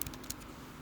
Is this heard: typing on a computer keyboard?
yes